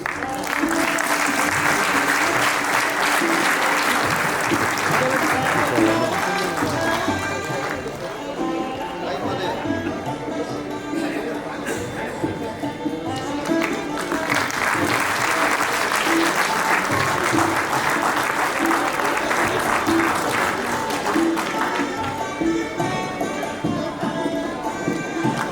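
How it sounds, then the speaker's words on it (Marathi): Sustained applause from the audience at a felicitation ceremony in Nagpur fills the hall with dense clapping, swelling again after a brief dip, with a steady tone and murmuring voices underneath. "आपल्या सर्वांच्या जोरदार टाळ्या झाल्या पाहिजेत."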